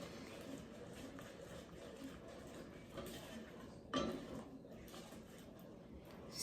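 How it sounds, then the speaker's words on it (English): Praline candy mixture being stirred in a pot for Mardi Gras, a steady soft scraping and swishing with one louder clink of the utensil against the pot partway through. "just keep stirring to integrate those ingredients"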